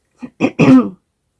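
A short throat clearing followed by a harsh cough, close and loud, then silence.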